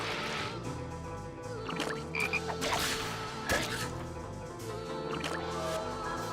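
Frogs croak in a video game, a steady, loud chorus of repeated croaks over game music and effects, with no voices.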